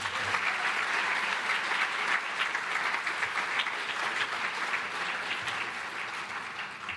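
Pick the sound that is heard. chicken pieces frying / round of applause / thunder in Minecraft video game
round of applause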